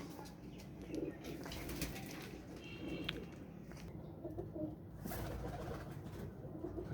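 Ferozpuri pigeons, a pair of males and females, coo softly amid a busy outdoor murmur, with faint chirps and a brief flutter of wings in the background.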